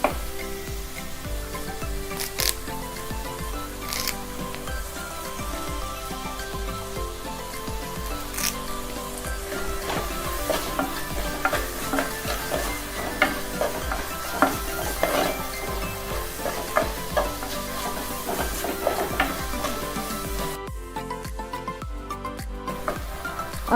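Onions with salt and curry leaves sautéing in a pan for a magic chicken dish, a steady close sizzle with frequent scraping stirs and clinks running throughout, no talking.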